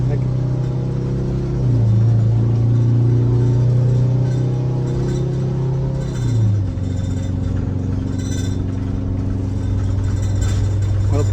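An old turbocharged engine that sat unused for 20 years runs loud and steady, rising to a higher revving pitch for a few seconds and then dropping back to a lower drone. Voices talk over the engine now and then.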